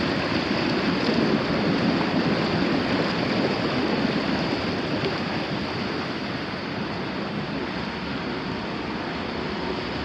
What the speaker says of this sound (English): It's still running, the water's still coming out